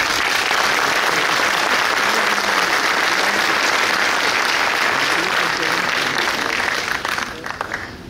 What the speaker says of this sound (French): je pense même qu'on peut les applaudir.